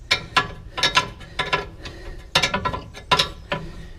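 A 17 mm spanner works a tie rod end nut loose on a Ford Capri 1600's front suspension, giving a series of sharp, close metallic clicks and ratcheting clatters in irregular bursts, with no talking.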